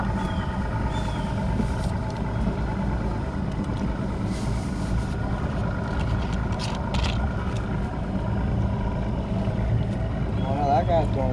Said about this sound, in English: that other boat's going back the other way